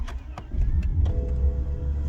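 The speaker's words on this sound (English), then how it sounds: "The car started right up." A BMW 7 Series car starts on a freezing morning at minus four degrees after an injector repair, a short crank followed by a steady, close, low engine rumble settling into idle.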